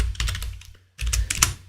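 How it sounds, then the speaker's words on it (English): Fingers typing on a computer keyboard during live forex trading, two short bursts of quick close clicks separated by a brief pause, quiet and alone. "Let me type it out."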